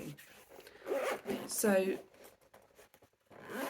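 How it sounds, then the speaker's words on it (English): A zipper rasps open on a car go bag in short bursts, close to the microphone, between stretches of quiet talking. "sorry about the zip"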